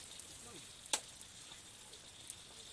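Sambal chili sauce frying in oil in a pan for jengkol, a faint steady sizzle with brief crackles and one sharp pop, heard quietly with no voices.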